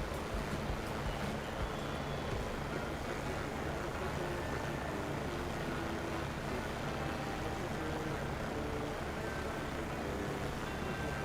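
A Taog 500C helicopter in group flight over Canyonlands gives a steady, dense rotor and engine roar with broad wind noise, constant and unbroken throughout, heard from inside the aircraft.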